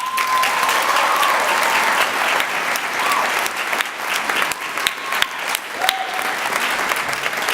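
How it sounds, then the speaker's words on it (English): Sustained applause from a large audience at a 2016 high school graduation ceremony, dense steady clapping throughout with a few louder individual claps and faint whoops standing out. "Let's have another big round of applause for Clinton DeCristoforo and all the speakers for the class of 2016"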